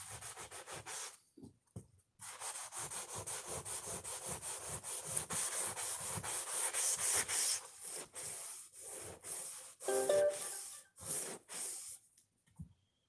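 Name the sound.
sanding with 400 grit sandpaper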